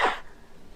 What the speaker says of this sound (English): If you cough, try to cough in your elbow